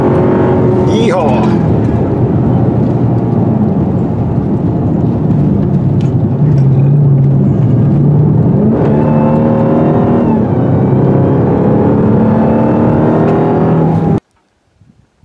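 A 2021 Dodge Durango SRT Hellcat with a roughly 700-horsepower engine accelerates hard, a loud sustained roar that climbs and shifts through gears for about fourteen seconds, heard from inside the cabin with voices over it, then cuts off abruptly.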